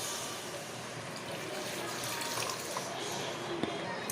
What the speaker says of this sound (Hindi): अब इसमें हम 1 गिलास जितना पानी ऐड कर देंगे।